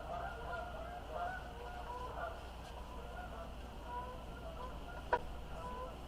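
Geese honk faintly in the distance after dark, a loose chorus of calls over a steady low hum, with one sharper call standing out.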